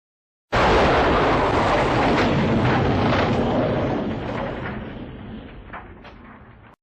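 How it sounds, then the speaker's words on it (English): A sudden loud blast bursts in, then a long roaring rumble slowly fades away over several seconds. "jolted out of their sleep by the sound of the explosion"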